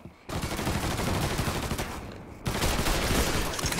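Dense bursts of automatic gunfire from the crime-action video game Mafia 3 rattle on almost without pause, loud and close. There is a brief lull near the middle, and then a still heavier volley follows.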